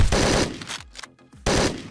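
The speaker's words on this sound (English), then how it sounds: "13 shots coming in here" Rapid bursts of gunfire from the top-down action game Hotline Miami 2, a loud dense volley, a short lull with a few scattered shots, then another loud burst, no talking.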